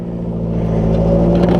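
A 1954 Ford NAA tractor engine idles close by in a steady, low, throbbing drone with faint clatter, growing slightly louder toward the end.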